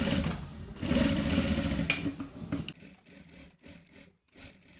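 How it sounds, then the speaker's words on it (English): Sewing machine stitching a duvet cover, a close mechanical whirring run that slows and breaks into shorter bursts with quiet gaps, no talking. "Sewing of the cover"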